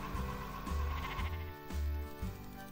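Sheep and goats bleat repeatedly in the farming game Farm Manager 2021, several loud, wavering calls in succession over a steady background of in-game ambience and music.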